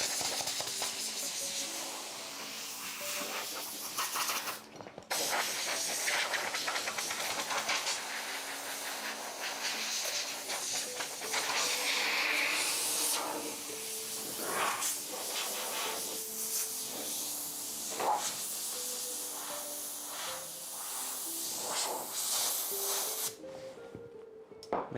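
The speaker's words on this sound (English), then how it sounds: "now the compressed air, and just clean everything" Compressed air blasts dust off a door under restoration: a loud, steady hiss runs almost unbroken, with brief cutoffs and restarts, and no talk.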